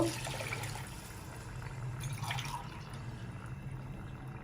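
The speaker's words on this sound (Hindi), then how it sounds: "ये मैं पानी डालूंगी" Water is poured into a cooking pot for mutton pulao, a faint splashing trickle heard close by and alone for a few seconds.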